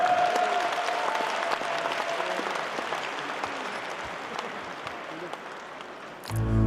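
A hall audience at a Buryat folk group's 40th anniversary concert gives a sustained, even ovation to welcome a performer to the stage, the clapping slowly thinning before a louder burst of sound cuts in at the very end.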